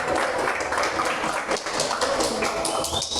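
A church congregation applauds together, a dense, steady wash of clapping that fills the space from start to finish with no talk over it.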